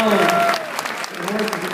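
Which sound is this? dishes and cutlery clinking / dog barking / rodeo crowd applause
rodeo crowd applause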